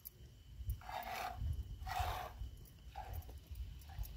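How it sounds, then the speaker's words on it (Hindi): Goats bleat at a village goat milking operation, with several short nasal cries repeating at irregular intervals, fairly close and moderately loud, over low background rumble. "कोई बकरी ने आवाज़ दिया"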